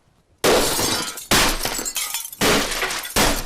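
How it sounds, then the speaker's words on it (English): Baseball bat slamming repeatedly into a window covered in shatterproof film, four heavy crashing blows in quick succession with cracking glass, loud and up close, no voices. "6 strikes of the bat to start to break through."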